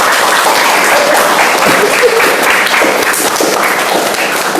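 An audience at a talk on Islamic bank careers bursts into dense, steady applause that stays loud and close throughout, a continuous wash of many hands with no pauses.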